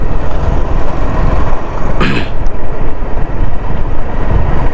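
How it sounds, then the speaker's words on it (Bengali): A motorbike engine strains uphill on a hilly mountain road between Sindukchhari and Mahalchhari, a loud continuous drone heavily buffeted by wind noise, with no speech. "ইঞ্জিনে প্রচুর প্রেশার পড়ে এই পাহাড়ি রাস্তায় গাড়ি চালাইলে।"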